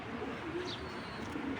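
Racing pigeon cooing softly in a loft, a low, muffled burble over a steady background hiss.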